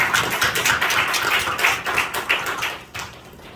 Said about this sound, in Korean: 하나님께 영광의 박수를 드리겠습니다.